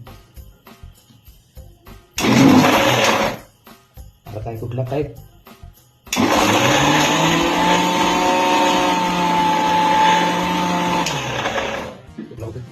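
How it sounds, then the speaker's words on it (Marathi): An old mixer grinder grinds masala with whole coconut pieces in two loud whirring bursts, a short one and then a longer, steady run, with someone talking between them. "आमच्या इंग्रजांच्या काळातल्या मिक्सरमध्ये मसाला बनवतो"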